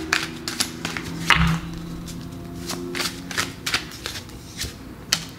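A tarot card deck being shuffled by hand, quick riffling bursts and soft taps repeating at close range over a low steady hum.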